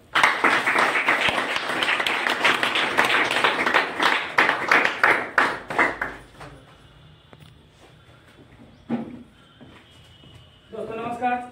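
An audience at a health talk claps to welcome a speaker, a dense, lively burst lasting about six seconds before fading to scattered quiet sounds; a voice starts speaking at the end.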